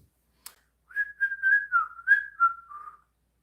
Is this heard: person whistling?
yes